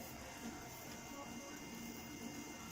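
A 3D printer prints a part for a magnet motor, giving a faint, steady whir and buzz of its motors that drones on without a break.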